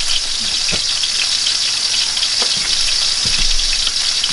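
A burger patty frying in a pan, a steady loud sizzle and hiss that continues throughout with a few faint pops and no talking.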